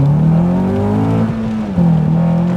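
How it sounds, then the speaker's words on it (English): A Honda Accord Euro R accelerates past close by, its engine note climbing steadily in pitch, briefly dipping at a gear change, then pulling hard again, loud and without talk. "Oh, here he comes. Euro R, look at him go."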